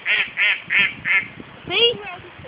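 At a park pond, a voice imitates duck quacks: four evenly spaced, nasal quacks close by, followed by a longer gliding call and a softer one.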